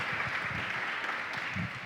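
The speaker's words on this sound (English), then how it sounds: "let's give him a round of applause" An audience at a lecture hall talk gives a round of steady applause, a dense, even wash of clapping lasting the whole short moment.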